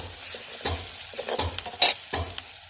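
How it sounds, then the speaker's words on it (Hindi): Ginger garlic paste sizzling in a pan for fish curry, a soft steady frying hiss broken by several scrapes and stirs of a spoon, close and fairly quiet with no talking. "अब इसे थोड़ा सा फ्राई करना है ताकि इसके अंदर से ये कलर चेंज हो जाए"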